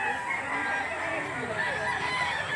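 A rooster at the Lipa auction market crows amid a steady din of market chatter and other fowl, the call bright and drawn out over continuous background noise.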